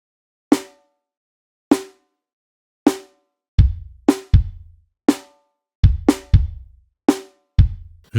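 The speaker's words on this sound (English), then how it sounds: "Next, add a snare on the second and fourth beats of the bar." A programmed drum beat alternates deep kick thumps with sharper snare cracks landing on the second and fourth beats, a clean steady groove with nothing else audible between hits.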